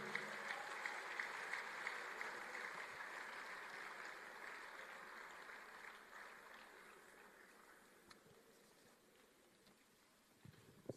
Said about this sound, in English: You can continue clapping.